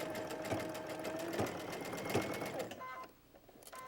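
A sewing machine stitches along the seam of a quilted reversible cotton jacket, a close steady mechanical whir with rhythmic needle thumps that stops near the end.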